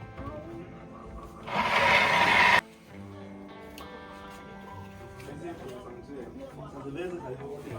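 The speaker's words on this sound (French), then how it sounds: "je vais écraser mon ail, mes oignons, mon gingembre et mon piment avec mes écrevisses" Garlic, onions, ginger, chili pepper and crayfish are crushed in a kitchen with a loud, harsh grinding burst lasting about a second, which cuts off abruptly and leaves quiet background kitchen noise.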